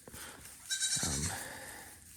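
A goat separated from its kid lets out one short, loud, wavering bleat close by, surrounded by quiet farm background noise.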